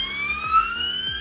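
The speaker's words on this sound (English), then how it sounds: "So you switch it on, it beeps and nothing happens" A GHD Duet hair tool gives off a sustained, clear electronic beep tone, fairly loud and close, holding steady across the short moment with a faint background hum.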